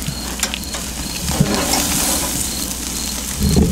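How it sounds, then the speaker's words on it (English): Jerk tea marinated porgy fish grills over an open flame, giving a close, steady sizzle and crackle, with a few sharp knocks and a burst of clatter near the end. "jerk tea marinated porgy, cooked on raw flame, big vibe."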